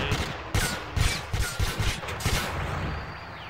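Bursts of video game gunfire in a jungle shooter level, rapid volleys and single shots cracking in clusters, fairly loud and close with a dense noisy background between bursts.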